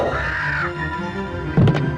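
A black crow caws once, a short loud harsh call near the end, over steady background sound, set within an Indonesian legend drama.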